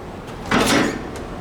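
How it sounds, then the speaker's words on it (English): A Schindler MT traction elevator door in a cinema parking garage slides shut, a single short rumbling whoosh rising and fading over about half a second against steady background hum. "I usually film the door closing."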